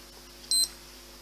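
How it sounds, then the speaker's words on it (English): A single short confirmation beep from a Spintso Ref Watch 2X referee watch, one clear high electronic tone standing alone against quiet background hiss. "Action is confirmed by a single beep."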